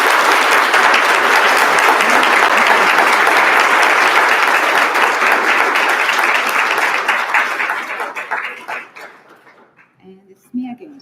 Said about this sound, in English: please, one more round of applause for Dr. Rereading.